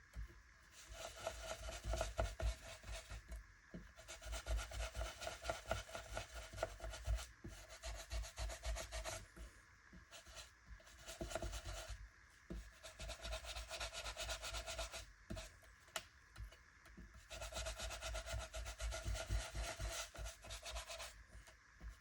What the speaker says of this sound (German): versuche ich hier mit diesem Pinsel das einfach so ein bisschen besser zu verblenden